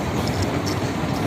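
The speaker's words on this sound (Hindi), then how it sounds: "आप देख सकते हैं यहाँ पर जो है फाइनली ट्रेन भी जा रही है हमारा रेलवे स्टेशन" Train rumbling past at Kurnool railway station, a steady broadband roar with low rail rumble throughout, close by and continuous with no talk.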